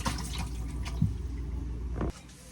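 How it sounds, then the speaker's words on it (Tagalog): Cleaned isaw (chicken intestines) being drained, water splashing and dripping steadily at close range for about two seconds before stopping abruptly. "I-drain na natin ngayon ng isaw"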